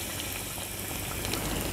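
Warm oil sizzling and hissing as it is poured over chopped garlic scapes for a garlic paste, a steady close broadband hiss lasting throughout with no talk.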